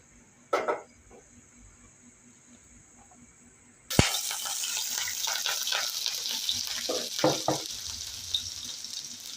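Sliced onion goes into hot oil, setting off a loud, steady sizzle of frying with a few clinks of stirring, following a quieter opening with a single brief clatter.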